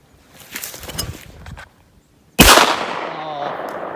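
A rifled 32 gauge shotgun loaded with number 9 shot fires a single loud, sharp blast that follows a few seconds of quiet murmuring, and the report decays slowly into the surroundings.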